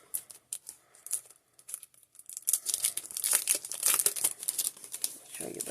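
Dollar Tree Valentine scratch-off stickers are handled close up with crisp crinkling and tearing of paper and plastic backing, sparse at first and then busier and louder.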